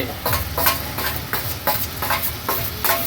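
Onion, tomato and green chili sizzle in hot oil while being stirred, with rhythmic scraping strokes roughly every half second over a steady close-up fry, no voices.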